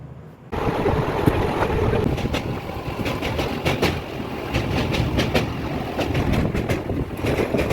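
From inside a passenger train on a four-hour ride to Kolkata, wheels rumble loudly and continuously over the rails with a rhythmic clickety-clack, starting abruptly after a brief quiet moment.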